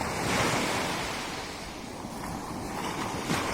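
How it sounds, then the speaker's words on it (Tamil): Sea waves wash continuously onto a beach at Al Fayer in Muscat, Oman, with a steady surf roar and a gentle swell in loudness, mixed with some wind buffeting. "இப்போ இது ஓமன் நாட்டில் மஸ்கட்டில் இருக்கக்கூடிய ஒரு பீச்சு."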